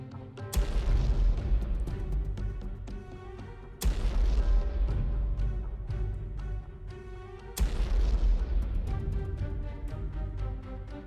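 A heavy cruiser shells an airfield in the naval game War on the Sea: three loud, booming salvos land about four seconds apart, each a sharp blast followed by a long, rumbling decay.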